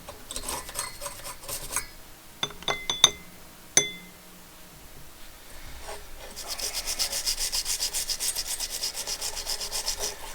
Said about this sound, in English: I use a soft bristle toothbrush